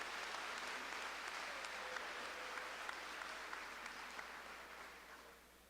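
Audience applause at a middle school promotion ceremony, a steady wash of many hands clapping that holds evenly for several seconds before tapering slightly, heard from within a large room.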